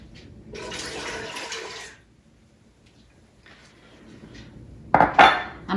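Water poured into a large stock pot in a home kitchen for chicken and dumplings: a splashing rush of about a second and a half, a quiet pause, then more splashing and clanks of metal cookware.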